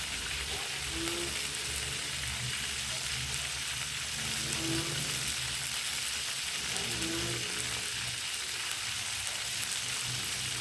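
Chicken drumsticks with black pepper frying over gentle heat, a continuous dense crackling sizzle like light rain, close and even with faint stirring now and then, no talk.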